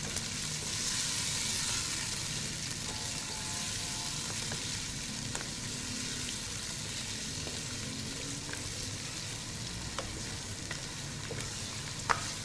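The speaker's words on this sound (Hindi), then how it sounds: "कच्चा गोश्त डाल के आपने इस तरह से ऑयल में इसको फ्राई करना है कि इसका कलर चेंज हो जाए।" Raw beef sizzling in hot oil in a pan, a steady dense crackle with scattered pops and occasional stirring clinks, continuous and close throughout.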